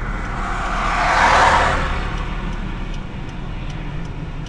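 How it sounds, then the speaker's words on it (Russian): A car's turn signal ticks in a faint, regular rhythm inside the cabin during a driving lesson, under steady road and engine rumble, while another vehicle swells past and fades early on. "Включай поворотник"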